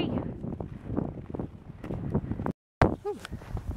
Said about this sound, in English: Ah, it's so windy.